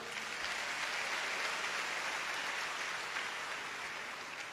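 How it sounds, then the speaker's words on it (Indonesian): Steady, sustained applause from a church congregation after a sermon prayer, a dense even wash of clapping with no voices over it. "Tepuk tangan yang meriah."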